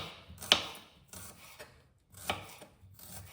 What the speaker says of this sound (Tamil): சின்ன வெங்காயம் தான் இதுக்கு நல்லாயிருக்கும். அதை இந்த மாதிரி பொடி பொடியாக கட் பண்ணிக்கணும்.